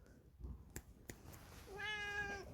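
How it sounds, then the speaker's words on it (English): A pet cat meows in a garden, one drawn-out, fairly close call near the end after a couple of sharp knocks, over quiet outdoor background. "you can hear one of my cats meowing"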